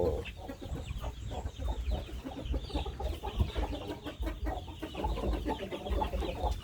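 Burmese breeding chickens, roosters and hens, in a breeding pen, clucking continuously in a dense overlapping chorus, close and fairly loud, with no talk over it.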